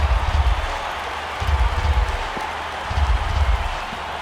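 Crowd of over 27,000 at a Marlins at Nationals baseball game in a PS4 video game rising and cheering, a steady broad roar with rhythmic low thumps, loud and sustained, no talk.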